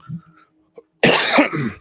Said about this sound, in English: Y'all forgive my cough.